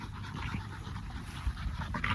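A young blue dog pants rapidly and steadily up close, with quick rhythmic breaths and no other sounds over them.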